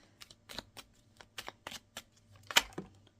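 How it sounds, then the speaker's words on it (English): A deck of tarot cards is riffled and shuffled by hand in a quiet room, making a series of short, crisp flicks and soft slaps at an irregular pace, alone and close. "I think that was just myself shuffling."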